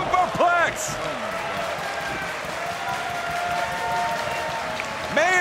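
A raucous wrestling arena crowd in Buffalo roars steadily throughout a singles bout, with sharp louder bursts at the start and end and a commentator talking over the noise.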